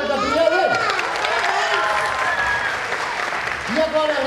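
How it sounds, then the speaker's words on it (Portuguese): Audience applause at a public event in Ariquemes, steady clapping from a sizeable crowd lasting several seconds, with voices calling out over it near the start and end. "palmas para o Gabriele!"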